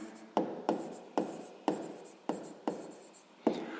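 A pen writes on paper while a sixth-grade maths exercise is worked out. Seven sharp strokes tap down at a fairly even pace, each trailing off into a short scratch, close and quiet, with no talking.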